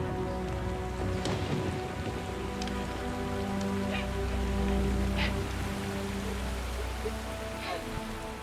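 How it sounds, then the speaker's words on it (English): Heavy rain pours down steadily on a remote jungle plane crash site during rainy season, a dense continuous hiss of drops drumming on surfaces, with a low rumble underneath throughout. "the downpour douses the fuel-soaked plane, it quickly becomes a deluge"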